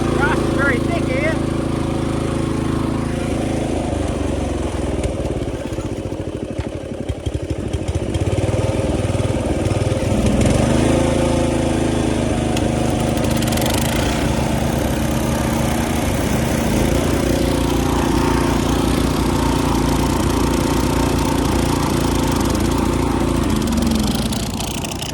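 Vintage lawn mowers run for the first time in 15 years while cutting thick grass, their engines droning loud and continuous close by, with people talking over them.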